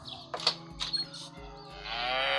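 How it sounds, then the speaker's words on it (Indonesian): A cow in a video game moos in a couple of drawn-out calls, with breathy noise rising toward the end; no one speaks. "Oh, suara apa nih? Sapi ya."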